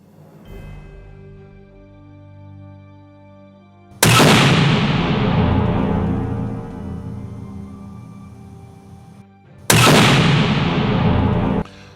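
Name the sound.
test firing an over-and-under gun in a tunnel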